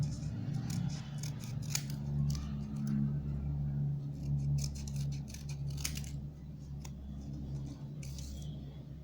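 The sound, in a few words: scissors cutting paper for a paper bird craft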